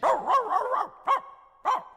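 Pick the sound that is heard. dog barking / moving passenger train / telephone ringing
dog barking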